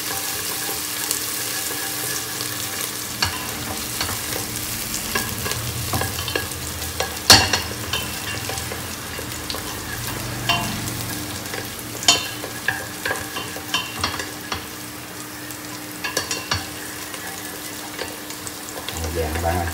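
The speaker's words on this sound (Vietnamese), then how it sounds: "Nghe xèo xèo là thấy được rồi." Steady sizzling and crackling from onions browning in a frying pan, with occasional scraping stirs and clinks over a long stretch, fairly quiet.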